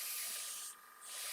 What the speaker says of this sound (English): You can actually see where I'm spraying, because it's a different colour, obviously, it's different black.